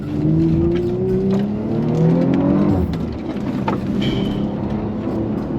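A 530 hp ABT-tuned Audi RS5 engine revving hard as it accelerates up through the rpm, rising in pitch before a gear change drops it back to a lower roar.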